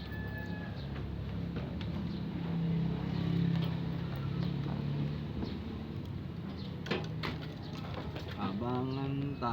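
Homing pigeons coo softly in a loft, low murmuring calls rising and falling amid steady background noise, with a person talking nearby and a brief rising whistle-like tone near the end.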